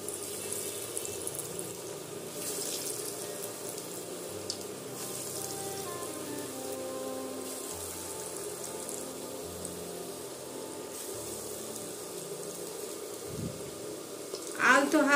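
Vegetable chops fry in hot oil, giving a steady close sizzle and hiss that runs unbroken, with a brief clatter near the end.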